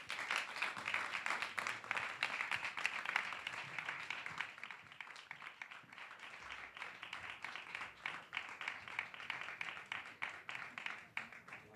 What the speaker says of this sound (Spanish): Os pedimos un fuerte aplauso para recibirles.